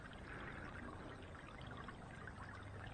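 Small homemade fountain bird bath with water trickling and splashing continuously, a faint, steady bubbling stream heard up close and alone.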